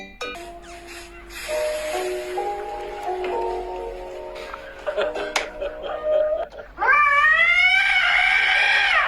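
A cat yowls in a neighborhood, a long rising, wavering wail that swells loud toward the end, following scattered thumps and noises, with people laughing and talking nearby.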